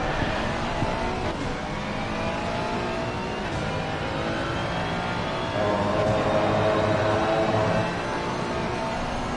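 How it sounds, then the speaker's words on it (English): A race car engine hums and revs during a Super Sprint at Kyalami circuit, heard from on board with a steady droning tone that rises in pitch and swells louder partway through. "Listening to that engine."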